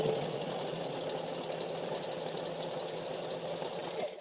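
A sewing machine runs a continuous stitch, a fast, even mechanical hum and patter heard up close at moderate volume, steady from start to finish without voices.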